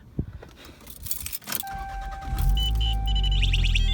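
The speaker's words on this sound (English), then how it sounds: "There's that radar detector going off" A radar detector alert sounds inside a 1992 car: a steady electronic tone followed by rapid high beeps, heard over the engine starting and idling, after an earlier jangle of keys.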